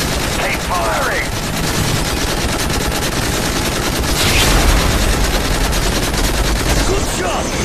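Sustained automatic machine gun fire in a Modern Warfare 3 cutscene, a dense, unbroken rattle of rapid shots with battle noise and shouted voices mixed in, loud and close throughout.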